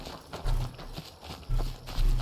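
Horse hooves clip-clopping in Skyrim, with several loud, close thuds landing in an uneven walking rhythm over a low background ambience.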